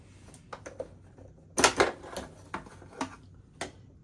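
Embroidery machine stitching an in-the-hoop applique coaster, heard as a string of sharp mechanical clicks and taps with a louder burst in the middle, close and alone with no voices.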